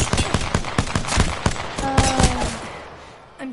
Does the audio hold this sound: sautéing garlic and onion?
no